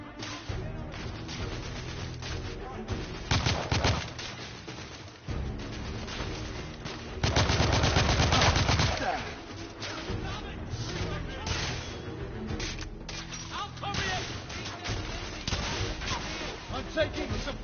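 Gunfire in a PS4 shooter game, steady bursts of shots and heavier blasts throughout, with a loud sustained barrage midway, while a voice talks over the action.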